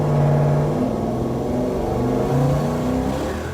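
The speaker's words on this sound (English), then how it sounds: "At number 10, the 1969 Charger RT with the 446 pack." A 1969 Dodge Charger R/T with the 440 Six Pack and three two-barrel carburetors runs with a steady, loud engine drone that swells slightly, heard under background music.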